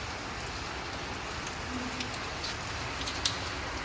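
Steady rain falling outdoors near a hostel, a dense even hiss with a few faint scattered drips on top, constant and unbroken throughout.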